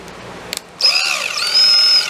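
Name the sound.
drilling with a power drill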